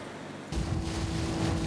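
Strong sea waves wash around a small boat, a dense rushing surge that starts abruptly and holds loud and close with wind buffeting.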